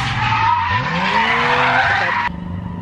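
A drift car at the Snetterton 100 circuit slides loudly and close by, its engine revving and rising in pitch under a sustained tire squeal that cuts off abruptly near the end.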